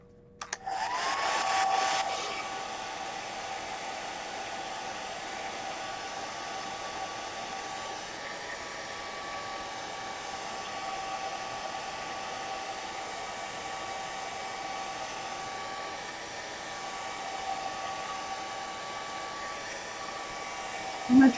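A hair dryer blows steadily over a gelli plate print, starting with a brief louder burst and then holding a continuous even whine and rush of air for about twenty seconds, close and alone.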